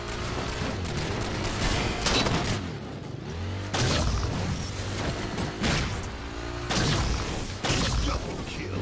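Repeated bursts of video game gunfire from a deadeye-style weapon, loud and close, arriving in clustered volleys with heavy booming impacts over a constant battle din.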